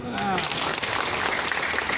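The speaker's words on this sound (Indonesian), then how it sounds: "Tepuk tangan dulu" Applause from a sermon audience rises and fills the space evenly, a dense wash of many hands clapping at moderate distance with no voice over it.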